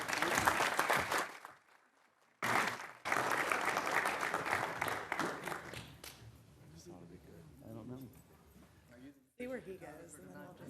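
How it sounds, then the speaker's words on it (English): Audience at a city council meeting gives a round of applause, a dense clatter of clapping that stops briefly, resumes, then fades as voices and movement take over the room. "round of applause"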